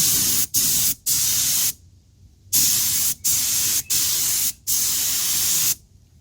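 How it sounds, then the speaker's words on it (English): Bursts of hissing spray from a spray gun painting a repaired mag wheel, about six pulses of varying length with brief pauses between them, loud and close, no talking. "let me put the spray gun down."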